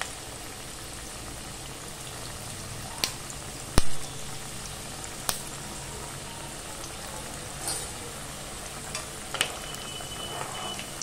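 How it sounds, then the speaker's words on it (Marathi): Kothimbir vadi, Maharashtrian coriander fritters, fry in hot oil in a kadhai with a steady, even sizzle, broken by a few sharp taps and clinks of the utensil. "ते आता आपलं ना तेल चांगलं गरम झालेलं आहे. आता आपण ना वड्या तळून घेऊया."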